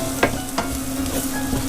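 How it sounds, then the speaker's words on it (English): Flour cooks in a pan for a venison or beef stroganoff while being stirred, giving a close, soft sizzle broken by a few brief scraping strokes of the spoon. "we just want to cook that flour a little bit"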